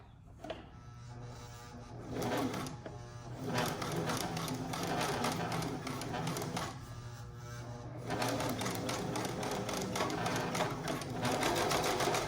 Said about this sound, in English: now I'm going to sew across here, which is going to hold the piece of elastic